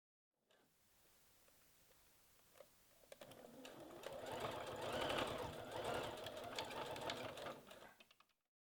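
A sewing machine runs a zigzag stitch along the inside edge of bikini-bottom fabric, starting as a soft whir and then settling into a louder, steady rattling hum for several seconds before stopping.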